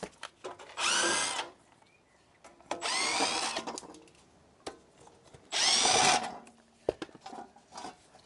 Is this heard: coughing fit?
no